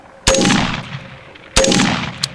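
Two loud, close shots from an AR-15 pistol with a POF trigger, about 1.3 seconds apart, each a sharp crack followed by a ringing tail in an outdoor setting.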